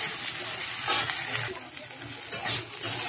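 Okra and potato sizzle and fry in a pan, with a steady hiss broken by occasional stirring scrapes; no voices.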